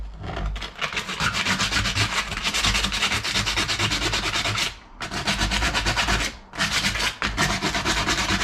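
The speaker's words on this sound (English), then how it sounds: "I kind of started sanding here already" Sanding on brake parts from a 2003 Suburban: loud, close, continuous abrasive rubbing in a fast back-and-forth rhythm, with two brief pauses, and no talking.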